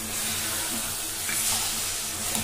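Peas frying in masala in a pan, giving a steady, close sizzle with soft bubbling and hiss that holds evenly throughout, with no voices over it.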